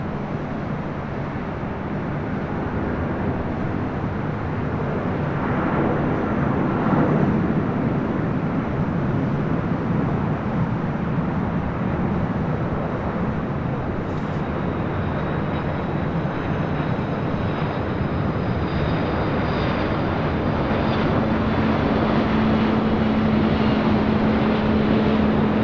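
An Aer Lingus airliner arriving at LAX after a flight from Dublin makes a loud, continuous broadband jet roar that holds steady throughout, with a tonal engine whine rising near the end.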